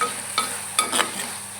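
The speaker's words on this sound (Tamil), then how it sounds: "இது நல்லாவே வதங்கட்டும்." Shallots and garlic sauté in a pan for a pepper-garlic kuzhambu, giving a soft steady sizzle with a few brief, close spatula scrapes spaced apart.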